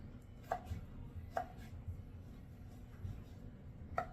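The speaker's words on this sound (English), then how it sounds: "My tomato's getting a little soft here, so it's a little harder to cut" A knife slices through a soft tomato on a cutting board in a kitchen, making four quiet, evenly spaced taps against a low, hushed background, with no one speaking.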